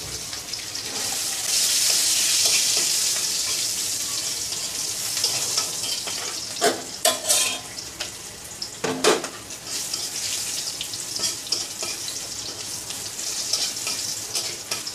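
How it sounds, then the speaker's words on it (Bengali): Onions fry in a pan with a steady sizzle that swells early, then dips amid brief clinks and scrapes of stirring before the sizzle carries on. "এই যে পেঁয়াজটা একটু ভাজা ভাজা করে নিলাম"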